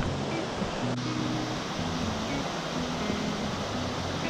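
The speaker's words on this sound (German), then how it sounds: "jetzt hört man schon das Wasser stärker werden" A river beside a jungle camp in Sumatra rushes with a steady, dense roar that fills the whole stretch without pause.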